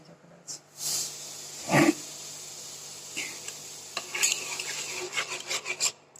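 A spoon scrapes and stirs milk in a pot, scraping the bottom to stop it sticking, in a few short raspy strokes with quiet pauses between them and one louder scrape early on.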